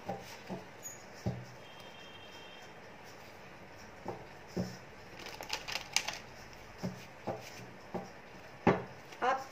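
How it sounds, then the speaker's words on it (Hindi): Tarot cards are drawn one by one from a deck during a personal reading: scattered soft taps and brief rustles, close and fairly quiet, with no talk. "ठीक है, मैं थोड़े से कार्ड और निकालती हूँ।"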